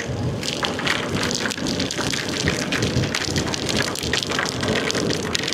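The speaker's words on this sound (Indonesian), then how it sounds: "Lebat hujannya." Heavy rain pours down steadily on a road along the Denpasar–Gilimanuk route in Bali, a dense, loud, continuous hiss of drops with no pauses.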